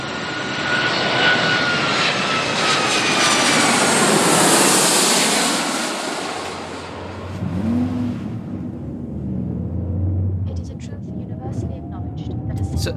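Passenger jet engines roar inside the cabin on final approach to landing, a loud broad drone that swells and then eases, with a lower rumble and faint clicks as it settles.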